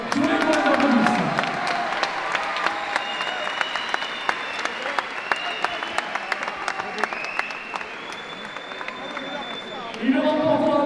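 A kickboxing crowd at a Wako Pro intercontinental championship bout between Wilson Varela and Ahmed Bouchiber applauds and cheers, with scattered sharp claps and whistles. Someone talks over the noise at the start and again at the end.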